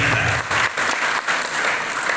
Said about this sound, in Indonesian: Tepuk tangan buat negeri tercinta kita.